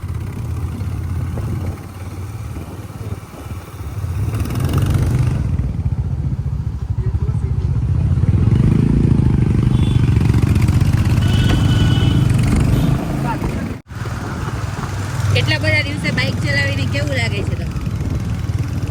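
Bullet and Avenger motorcycles rumble along a road in Nainital, a low engine drone running steadily beneath talking, easing briefly midway before continuing.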